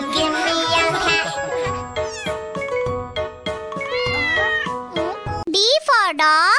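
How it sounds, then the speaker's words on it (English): A cartoon-style cat meows several times in a children's alphabet song, drawn-out tonal cries over music, loud and close, with a final pair of rising, wavering meows standing out at the end. "C for cat."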